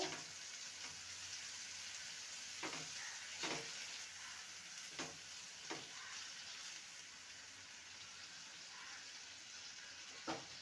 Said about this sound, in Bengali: একটা ছোট সাইজের টমেটোকে পেস্ট করে নিয়েছি সেটা দিয়ে দেবো ভালো করে আবারও কষিয়ে নেব